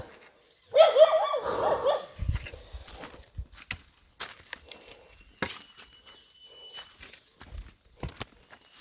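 A dog barks and growls a few times close by early on in a remote hill tribal village, followed by scattered footsteps and knocks on a quiet background.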